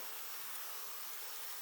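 Honey bees hum around an open hive during a kids' beekeeping outing, a faint, even swarm buzz with a hiss.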